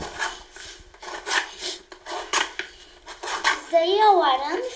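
Material being cut and scraped by hand while making a berimbau for a capoeira workshop, a series of close rasping strokes in uneven rhythm, followed by a short tonal squeak at the end.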